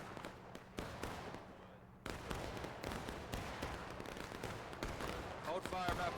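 Musket fire crackles in a Manassas Campaign Civil War battle video game, with sharp scattered shots and rolling volleys over a dense battlefield din, while voices talk over the shooting.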